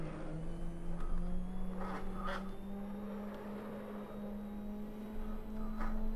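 Sim-racing engine drone from a SEAT Leon at the Salzburg Ring in Assetto Corsa, a steady mid-pitch tone that climbs slowly as the car accelerates, with a few brief tyre or shift blips and no talk.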